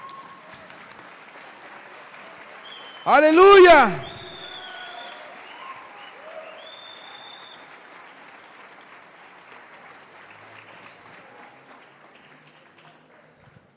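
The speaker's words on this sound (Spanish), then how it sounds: "Alguien déle una ofrenda de palmas a Jesús, por favor." A church congregation at a Spanish-language sermon bursts into loud applause for about a second, then it fades out beneath the preacher's continuing speech.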